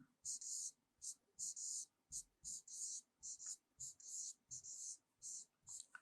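Quiet, rhythmic scratching of a pen writing during a science lesson, with about a dozen short strokes in an even pattern and a soft, faint background.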